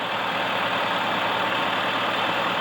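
A tractor engine idling outdoors in snow, a steady continuous diesel rumble with a broad hissy wash, unchanging throughout and with no talking.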